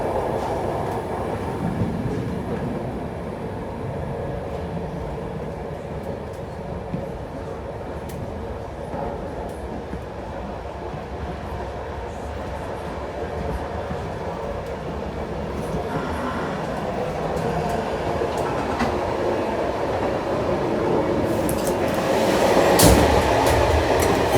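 Steady low rumble inside a passenger sleeper train in motion, continuous and even, with faint rattles and a brief louder swell near the end.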